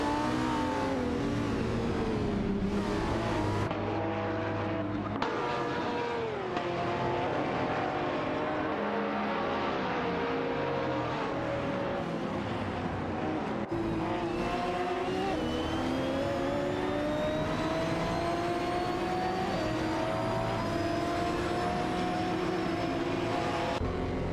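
Racing-game cars, among them an Aston Martin DB Race 9 and an Assetto Corsa GTT, roar around the track in a close battle, engines holding a steady drone with pitch sweeping up and down through gear changes and overlapping passes.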